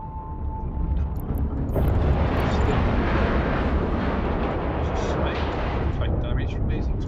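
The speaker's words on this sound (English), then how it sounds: "Take damage from these explosions." Dense, continuous rumbling explosions from the space game EVE Online fill the scene, loud and sustained with crackling debris, under a faint tone and occasional speech.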